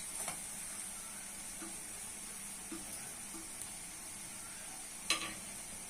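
Onions and ground spices (turmeric, cumin, coriander, chilli) frying in hot oil: a steady close hiss of sizzling with a few soft stirring scrapes and one sharper clink near the end, no voices.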